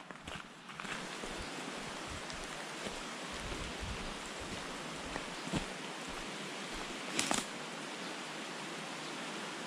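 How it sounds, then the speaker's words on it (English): Steady rain falling in wet native bush on the hike to Mount Pirongia, a broad even hiss that runs throughout with a few louder drips or footstep thumps near the end. "It's a wet, rainy day today"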